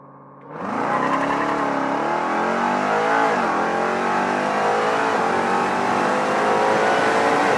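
Jeep Grand Cherokee Trackhawk, running 93-octane fuel, launching hard from a dig with a loud, sustained engine roar that rises after a brief idle and holds strong through the gear, close to the microphone.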